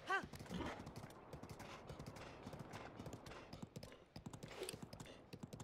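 A horse gallops in The Legend of Zelda: Breath of the Wild, its hooves beating in a quick, steady clip-clop rhythm close by, with a brief neigh at the start and game sounds underneath.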